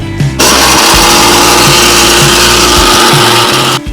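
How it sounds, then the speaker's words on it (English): Blender grinding two small whole cinnamon sticks, a loud steady motor whir that starts abruptly, runs continuously with rattling chunks, then cuts off. "Let's blend this."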